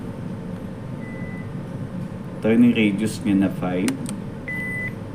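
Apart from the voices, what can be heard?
JRC 9201 ECDIS navigation system alarm beeping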